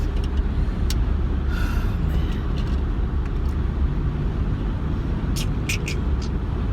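Inside a car on a sunny morning drive, a steady, loud low engine and road rumble fills the cabin, with a few faint clicks and a voice murmuring beneath it.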